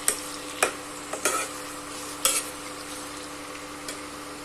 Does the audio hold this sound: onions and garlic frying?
yes